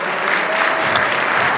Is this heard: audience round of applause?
yes